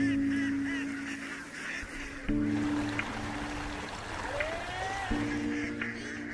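A flock of ducks being herded into rice paddies by a rice farmer each morning, honking and quacking calls overlapping loudly and close, with running water trickling in the background.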